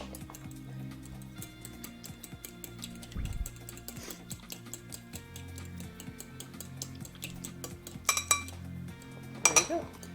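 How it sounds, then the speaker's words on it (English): A fork whisking ingredients in a small bowl while cooking, producing quick, light clinking taps against the dish in an irregular rhythm, with a few louder clatters near the end. "Whisk it with a fork"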